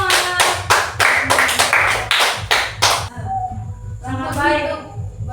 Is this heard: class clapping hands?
yes